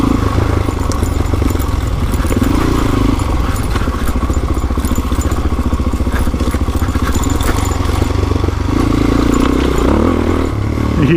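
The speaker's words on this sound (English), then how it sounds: "nice little wheelie, nice little wheelie" A motorcycle rides a forest trail in the Allegheny National Forest near Marienville, with a loud, close engine that rises in revs during a wheelie, and rattling and clatter over the rough ground.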